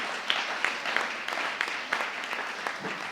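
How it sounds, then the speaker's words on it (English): An audience claps for the governors at a Nigerian public gathering, a moderate scattered applause with individual sharp claps standing out at an uneven rhythm, steady and fairly close, without speech over it. "So let's clap for the governors."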